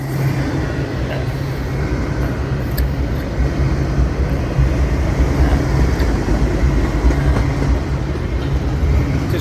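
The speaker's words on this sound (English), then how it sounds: "Distributive power unit." A loaded freight train with a distributed power unit locomotive rolls steadily past in Folkston, Georgia, a loud, continuous low rumble of wheels and rail noise with no clear breaks.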